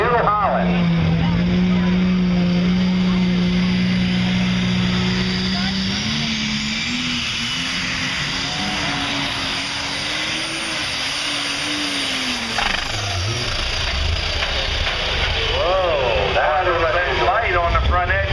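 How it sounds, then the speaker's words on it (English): An alcohol-burning New Holland pulling tractor at a tractor pull, its engine roaring steadily with a rising and falling pitch, loud and sustained, while a voice talks over it. "Watch the wheel speed on the alcohol burning New Holland."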